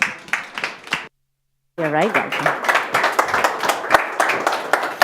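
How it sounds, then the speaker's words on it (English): Scattered audience clapping at a health care media lounge event as speakers take the stage, sharp individual claps mixed with a voice speaking over them, interrupted by a brief gap. "So a little round of applause"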